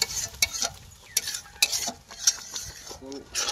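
Paneer butter masala gravy sautéed in a pan with a little added water: a soft sizzle under irregular scraping and clinking strokes of a spoon against the pan, close and without talk.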